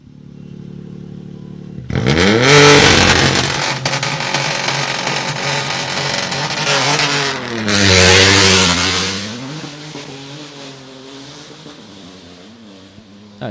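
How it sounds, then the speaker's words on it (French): An Opel rally car launches from the start line of special stage 11 at the Rallye du Var 2021, its engine roaring loud and near with rising revs and wheelspin, then easing off and fading as it pulls away. "ça patine hein, pour l'Opel"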